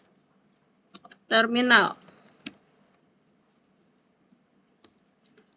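Computer keyboard typing during router configuration, sparse isolated key clicks around a short burst of speech, with a few more faint taps trailing off into quiet.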